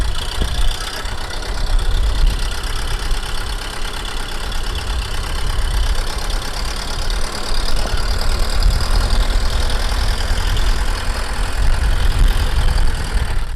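A tractor engine drones loudly and steadily while it drives a slasher mowing weedy grass. It runs near and continuous, with rough, churning texture throughout and no talking.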